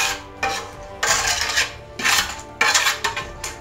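A mason's trowel scrapes a plastering screed rule clean in repeated harsh, gritty strokes of about half a second each, close and loud with short gaps between them.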